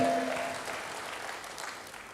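A church congregation breaks into applause during a sermon, broad hand clapping that starts loud and slowly fades across the couple of seconds.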